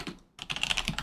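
Rapid typing on a computer keyboard while coding, a short pause followed by a dense run of close, crisp key clicks in quick uneven rhythm.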